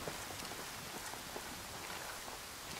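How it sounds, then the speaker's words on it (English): Steady rain in the video game Ghost Recon patters on a surface, a soft, even hiss of drops throughout with scattered faint taps. "I hear it raining now."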